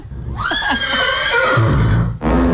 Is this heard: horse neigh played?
yes